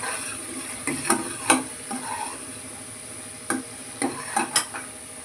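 Spice masala for chakolya is dry-roasted in a pan, heard as a series of distinct scraping and clinking stirs in two bursts separated by a quiet pause, over a faint background hiss.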